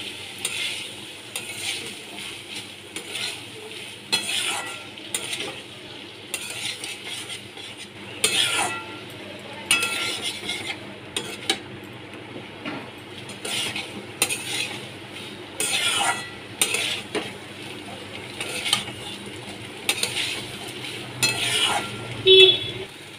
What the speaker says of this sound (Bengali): মটরগুলো দিয়ে ভালো করে নাড়াচাড়া করে মিশিয়ে নিতে হবে।